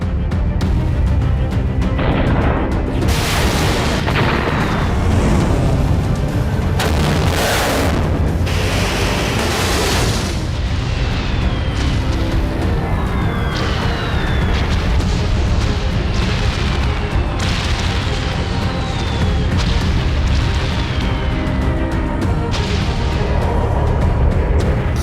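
Explosions as air defenses activate against Israeli missiles over Tehran's Pasteur district, near Khamenei's residence: loud, continuous booming and crashing bursts one after another across the whole stretch, with scattered whistling streaks overhead.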